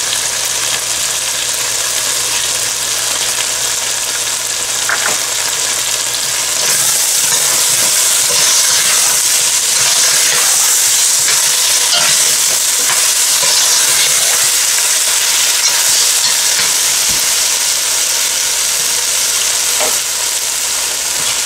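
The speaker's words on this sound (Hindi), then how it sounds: "पांच सात मिनट मीट को भूनने के बाद इसके अंदर आप चंद 6 से 7 अदद ग्रीन चिली" Meat frying with green chilies in a pot for aloo gosht, a loud continuous close sizzle and hiss that grows slightly fuller partway through, with occasional stirring scrapes and no voices.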